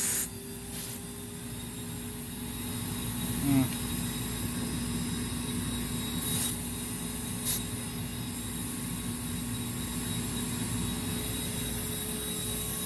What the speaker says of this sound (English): we can obviously hear some leaking right around here and here